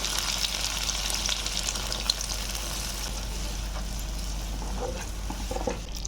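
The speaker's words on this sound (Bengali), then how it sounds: "এবার আমি ওই নারকেল দুধটা ঢেলে দিচ্ছি" Coconut milk poured into egg korma masala frying in a pan, giving a steady bright sizzle and hiss over a low hum, with a few faint clinks near the end.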